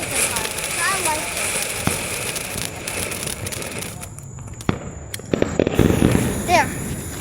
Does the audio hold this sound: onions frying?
no